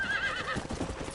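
A horse whinnies in the Red Dead Redemption video game on PS5, a loud, close, wavering neigh that fades into soft hoof clip-clops, with no one talking.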